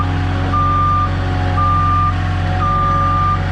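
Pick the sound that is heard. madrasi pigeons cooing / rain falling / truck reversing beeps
truck reversing beeps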